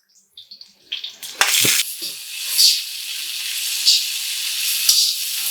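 Tomato tipped into a hot frying pan for egg kulambu with coconut and a single chilli, giving a soft clatter followed by a steady close sizzle and crackle that carries on alone.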